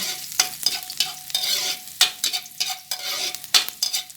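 Garlic sautéing in hot oil in a pan, a bright sizzle broken by repeated sharp scraping stirs at a quick, uneven rhythm, close and with no talk.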